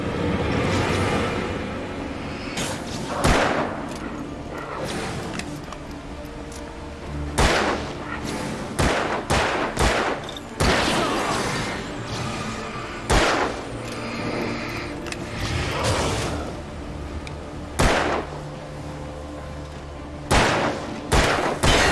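Repeated loud gunfire in the Alan Wake video game: sharp shots in irregular bursts and singles across the stretch, with a sustained rumble beneath and no talk.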